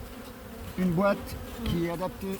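Honeybees buzz steadily during a winter hive inspection, with someone speaking French close by over the hum.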